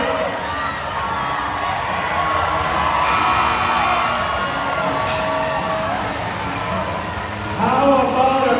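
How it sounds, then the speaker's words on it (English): A crowd at an indoor rodeo cheers and whoops steadily in a large arena, with applause and shouts swelling toward the end while an announcer's amplified voice carries over the noise. "Give Brett a big round of applause"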